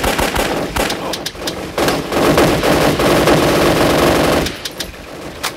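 Weapons fire in the zombie shooter game Shambles, a shotgun among them, as loud, dense, rapid blasts over a few seconds, then a sudden drop to a few scattered shots, with no talk.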